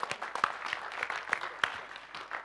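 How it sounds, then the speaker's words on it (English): Scattered applause from a small audience at an agile-teams talk, individual claps distinct and unevenly spaced over a couple of seconds rather than a full ovation. "can we give a big round of applause to them?"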